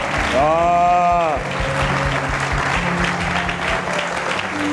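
A church congregation bursts into loud applause and cheering, a dense clapping roar that swells and then carries on under a preacher's voice.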